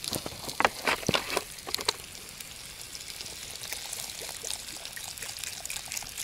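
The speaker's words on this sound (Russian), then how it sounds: "Походу надо водички подлить." Water poured into a cooking pot over a campfire at a winter taiga bushcraft camp, a soft steady trickle with a few brief splashy bursts early on, close by and moderately quiet, no talking.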